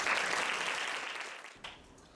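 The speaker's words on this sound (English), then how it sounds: "So I want to give them a round of applause." Brief audience applause at a picnic gathering, a fairly faint, dense patter of clapping that tapers off quickly, with a small bump near the end.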